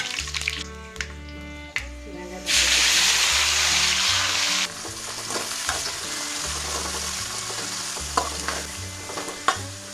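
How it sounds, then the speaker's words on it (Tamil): Fennel and spices are tempered in hot oil in a kadai for chicken biryani, a sudden loud hissing sizzle that swells for a couple of seconds and then settles into softer frying under steady background music. "இப்போ வந்து இந்த கடாயில் அப்படியே பிரியாணி தாளிச்சிடலாம்"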